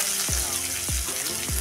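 Chopped onion frying in a pan for a thotakura amaranth-leaf curry, a continuous close hiss with three low thumps spaced roughly every half second, like a spoon or spatula stirring.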